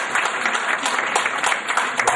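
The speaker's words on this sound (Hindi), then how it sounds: "श्रीमान वर्मा जी को मैं यहाँ आमंत्रित करना चाहूंगा कि वो अपने तालियों के साथ" Audience applause welcoming an honoured guest to the stage at a company event, a steady, dense patter of many hands clapping that fills the whole stretch at an even level.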